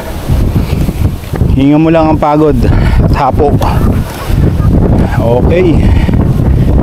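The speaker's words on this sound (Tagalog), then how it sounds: "Sarap ng hangin." Mountain wind gusts steadily across the microphone on Mt. Talamitam, Mt. Lantik or Mt. Apayang near Nasugbu, a continuous broadband rush that stays loud throughout while a person speaks briefly over it.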